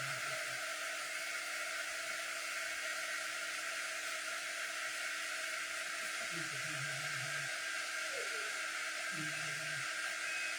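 A hair dryer blows steadily and loudly on a craft board, a constant whooshing whir throughout with brief low murmurs faintly underneath.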